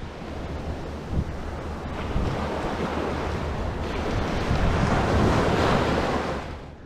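Surf washes steadily onto a Treasure Island, Florida beach as strong wind buffets the microphone, a continuous broad roar that swells louder toward the end.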